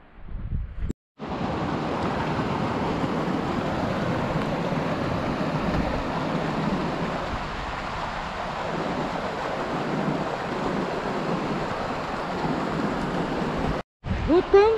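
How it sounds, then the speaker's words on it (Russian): A waterfall at Twin Lakes near Lake Tahoe gives off a steady, broad rushing roar with wind buffeting the microphone, continuous and fairly loud for the whole stretch apart from two brief dropouts. "Вот там водопад тоже"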